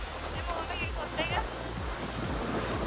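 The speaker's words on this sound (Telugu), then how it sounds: "వాటర్ వెనక పోయినా వస్తాయిగా." Sea waves wash up on a beach beside a resort, a steady broadband rush with surges rolling in, heard close with some wind on the microphone and people talking over it.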